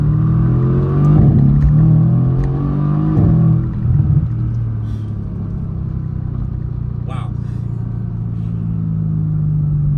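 A tuned Mercedes-AMG GT S engine revs hard and accelerates, a loud low rumble rising in pitch, with a person talking excitedly over it.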